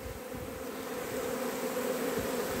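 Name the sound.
honeybees fanning wings at a swarm hive entrance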